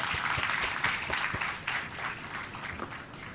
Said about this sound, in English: I also hope that you will give yourself the applause to celebrate this important moment of your life